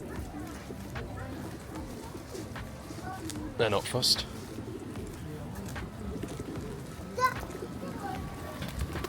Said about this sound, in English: Plenty of pigeons.